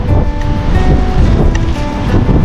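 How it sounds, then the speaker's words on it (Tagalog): Strong wind buffets a GoPro outdoors near water, a loud, continuous roaring rumble with gusting surges throughout. "Lakas ang hangin."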